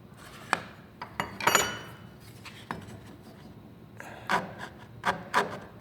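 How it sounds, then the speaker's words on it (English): A round rat tail rasp files a cut in wooden baseboard, producing close, scratchy rasping strokes in short uneven bursts with brief pauses between them. No voices are heard. "Using a round rat tail rasp, I'm just using the very skinny end of it just to round out that little portion of that cut."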